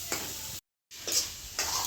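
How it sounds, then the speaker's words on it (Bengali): Spices with chili powder fry and get stirred in oil for a Bengali-style egg and vegetable curry, a close sizzle with scraping stirs, broken by a short gap of silence. "আর এখন এটা ভালো করে সুন্দর করে ভাজা করব, সব একসঙ্গে দিয়ে দিচ্ছি"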